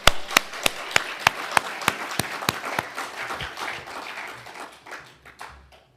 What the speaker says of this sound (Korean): 하나님께 우리 크게 한번 박수 한번 치겠습니다